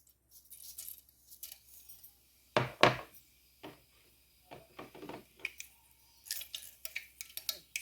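Mustard seeds splutter in hot oil in a pan on the stove, scattered sharp pops and crackles in irregular bursts with one louder crackle, quiet overall with gaps of near silence.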